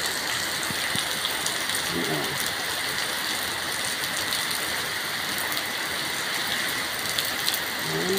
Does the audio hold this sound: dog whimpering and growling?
no